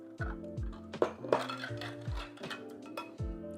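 Freshly washed glass jars, used for the first time, clink as boiling water is poured into them while pickled peppers are being made: several close, ringing knocks and chinks over a steady pouring hiss.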